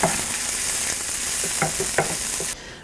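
Onions sizzle steadily in a hot pan while a utensil stirs through them, scraping in a few distinct strokes, loud and close, before the frying cuts off abruptly near the end.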